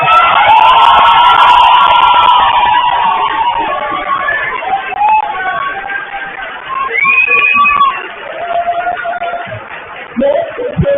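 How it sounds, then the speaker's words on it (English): At an 8th grade graduation ceremony at Brown Middle School, the audience loudly cheers the graduating class with shouts, whoops and whistles over a dense crowd roar, swelling and dipping in waves. "Everyone in attendance, please join me in applauding the Ravenna High School class of"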